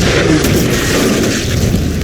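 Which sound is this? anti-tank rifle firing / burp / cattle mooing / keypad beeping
anti-tank rifle firing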